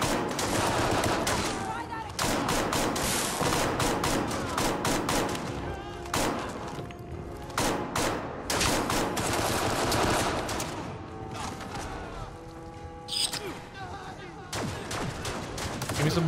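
Gunfire in the Fallout 4 video game, sustained rapid automatic bursts and fusillades rattling almost without pause, loud and close, with brief gaps and a few isolated shots near the end.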